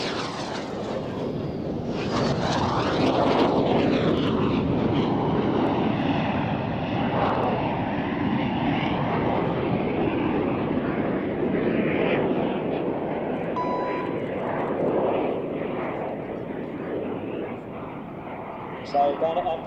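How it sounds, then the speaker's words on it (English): Air show synchro pair jets passing only feet apart: a loud roar swells and sweeps past with a shifting whoosh, sustained for many seconds before easing, while a commentator talks over it. "So Bennett and Pablo, the synchro pair, seemingly passing only feet apart"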